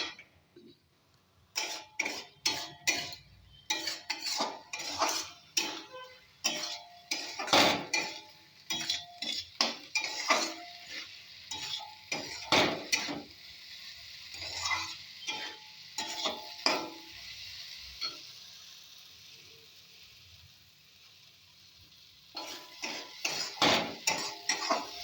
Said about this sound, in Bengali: ভেজে রাখা গোবিন্দভোগ চালগুলো আমি এর মধ্যে দিয়ে দিলাম, দিয়ে চালগুলো সমেত কাঁঠালের দানাটাকে আমি একটু কষি।